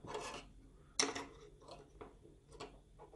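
Clamp being fitted onto a large 120–160 degree macro camera lens: soft close plastic scraping and clicking in a few short separate bursts, with one sharper snap near the start, faint and alone.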